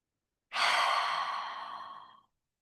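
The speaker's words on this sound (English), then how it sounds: "Full breath in through the nose, open mouth, exhale." A deep breath drawn in through the nose and let out through an open mouth as a long, loud, airy exhale that fades over nearly two seconds, close to the listener with no talking.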